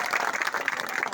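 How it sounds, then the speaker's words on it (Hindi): Brief burst of group clapping at a gathering near a bamboo link road construction site, dense and steady, moderately loud for about a second. "ताली ताली ताली।"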